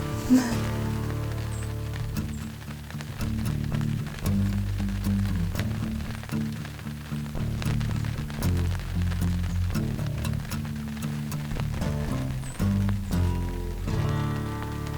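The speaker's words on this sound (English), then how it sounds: "it just started raining" Scattered drops tap and patter on a nearby surface over a steady low hum, light and irregular throughout.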